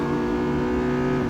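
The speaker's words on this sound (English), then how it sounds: "Bit of skidding." Real Racing 3 race with a Honda Civic Type-R: a steady engine drone with a tonal whine and faint tire scrub, continuous and loud, with no talking.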